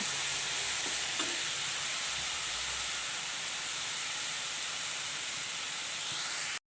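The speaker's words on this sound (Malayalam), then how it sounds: "ചക്കപ്പൂഞ്ചൊക്കെ ഇട്ട് നന്നായിട്ട് ഇളക്കി യോജിപ്പിച്ചിട്ടുണ്ട്" Jackfruit flower stir-fry, chakka poonju thoran, cooks in a pan with a steady close hiss of sizzling and steam, broken by a few faint scrapes of stirring before cutting off abruptly.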